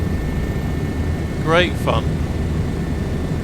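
A Bo 105 helicopter flies in Microsoft Flight Simulator 2024, a steady engine and rotor drone running throughout beneath a voice talking briefly.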